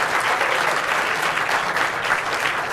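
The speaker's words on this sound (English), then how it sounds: "let's give them one more round of applause" Sustained, dense applause from a conference audience honoring climate leader panelists at a youth climate summit plenary session, steady and loud throughout.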